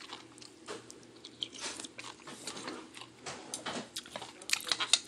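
Close, crunchy bites and chewing of a crisp accompaniment while eating a Lao kao poon noodle meal, irregular crackling munches throughout with a faint background hum.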